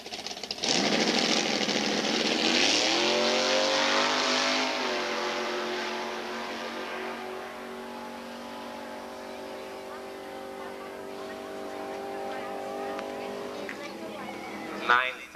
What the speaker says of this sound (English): Bruce Everly is making a pass